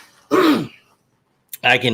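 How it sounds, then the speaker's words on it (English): A short cough with throat clearing, two rough bursts separated by a brief pause, close to the microphone. "Let me cough."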